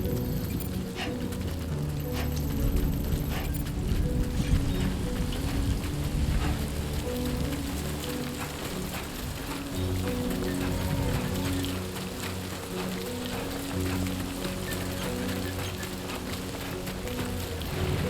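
Steady, heavy rain hisses and patters throughout a Death Stranding 2 game scene, with a low, droning musical layer beneath it and no speech.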